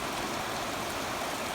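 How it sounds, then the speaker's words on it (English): Gentle rain falling steadily outdoors over a farm pasture, a constant soft hiss with no thunder, even and unbroken throughout. "With a nice gentle rain."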